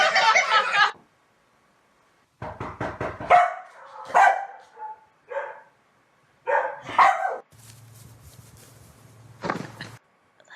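Dog barking indoors in a few short bursts with gaps of quiet between them, close and fairly loud, with brief knocks and a low hum near the end.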